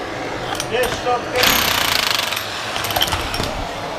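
A rapid mechanical hammering rattles in a sustained burst while loosening a stuck part on a Kverneland planter, with a few separate metallic knocks before and after, close and loud.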